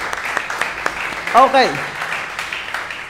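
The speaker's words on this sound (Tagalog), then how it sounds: "The best pong palakpak para kay Jesus." A church congregation applauds for Jesus during a Sunday worship service, with broad, steady clapping throughout. A voice speaks briefly over it.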